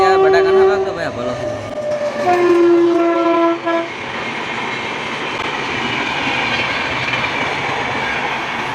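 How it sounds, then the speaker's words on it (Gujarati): A train rolls past with a loud horn blast sounding several times early on, then a steady rumble and clatter of wagons on the rails that carries on to the end. "એટલી વારમાં તો રેલવે આવી ગઈ"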